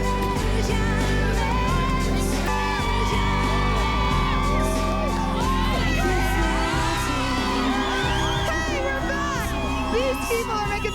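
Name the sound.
concert fans cheering and screaming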